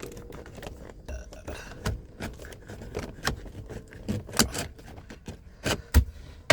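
Plastic trim on the instrument cluster of a 2003 BMW 525i 5 Series being pried loose by hand: a series of sharp clicks, snaps and tapping knocks at irregular intervals, close up and fairly quiet, with no speech.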